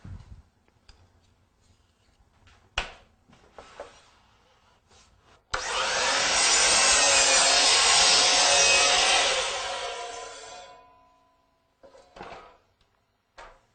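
A miter saw cuts through wood with a loud, steady whine that lasts about five seconds and then winds down. Scattered clicks and handling knocks from setting up the saw come before and after the cut.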